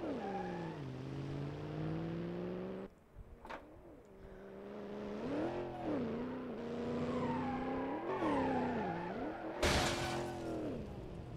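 Car crash in an open-world driving simulator game with a turbo car: engine revving and whining loudly through shifts, a sharp impact thud near four seconds and another bright burst near ten, with no talking.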